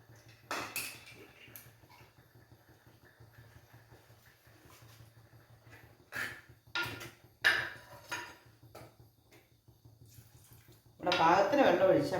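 Water pours into a drumstick curry made with a roasted-coconut paste, ending in a loud, close splash during the last second. Before it, scattered soft kitchen clinks and quiet talk are heard.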